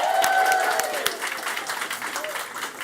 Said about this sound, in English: can we have a cheeky round of applause?